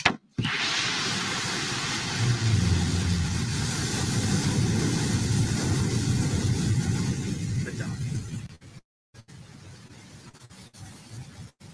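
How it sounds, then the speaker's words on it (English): BE-3 rocket engine at liftoff from Launch Site One, a sustained loud, broadband roar that holds steady for about eight seconds, then drops out briefly and returns as a fainter distant rumble. "And that BE-3 engine rumble really coming"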